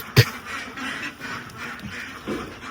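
Farm ducks in a flock quack while they wait for food. A sharp knock comes first, then scattered, fairly soft quacks follow against a quiet background.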